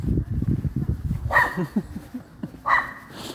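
Dogs bark and yip in short bursts, a quick run of low woofs followed by two sharper barks, fairly close.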